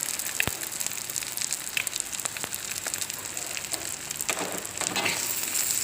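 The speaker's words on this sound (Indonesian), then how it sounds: "Setelah itu kita kembali memasukkan bawang bombay yang sudah diiris tipis." Thinly sliced onion sizzles in a hot pan while cooking for kwetiau goreng, a steady close crackling fry with occasional sharp pops and stirring scrapes, without any talk.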